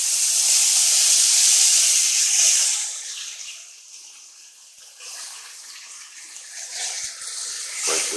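Ground beef hits hot oil in a Dutch oven over medium-high heat, setting off a loud, broad hissing sizzle that fades after a few seconds into a softer, steady fry with faint clinks.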